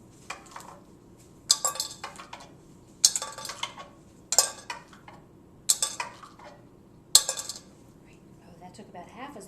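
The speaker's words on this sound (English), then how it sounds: "Use the teaspoon one at a time in the can as quickly as you can." Sharp metallic clinks as teaspoons are dropped one at a time into a can during a hand function test, six distinct drops spaced roughly a second apart over quiet background, with faint voice.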